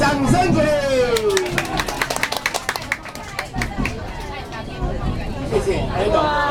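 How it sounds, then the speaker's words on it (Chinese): A small crowd applauding aboard the Arashiyama sightseeing train, scattered claps rising in a short burst under overlapping chatter and talk. "掌声鼓励！"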